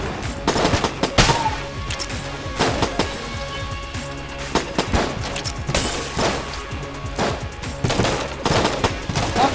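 Rapid bursts of gunfire from Enter the Gungeon, loud cracking shots in clustered volleys with short gaps, repeating through the stretch with no voices.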